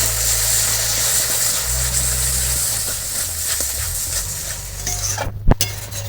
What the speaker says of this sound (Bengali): এবার সমস্ত মশলা একদম ভালো করে কষিয়ে দেবো